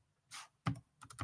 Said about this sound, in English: then typing some name